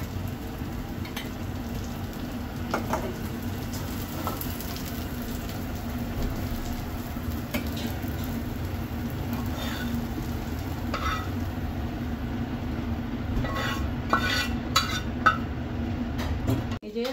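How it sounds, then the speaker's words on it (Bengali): Fish fries in a pan with a constant low sizzle, close by. Soft stirring scrapes run through it, and a few sharp utensil clinks come near the end. "মাছটা ভাজা হয়ে গেছে।"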